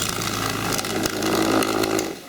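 A Lyman 2500 Pro Magnum vibratory case tumbler starts up loudly with a steady motor drone and rattling hum that holds constant, then eases slightly at the end, heard close with no talking.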